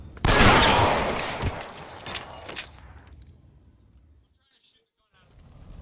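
Gunfire in the video game L.A. Noire: a loud burst of shots up front, then a few sharper isolated shots before the scene drops to near silence with faint game ambience.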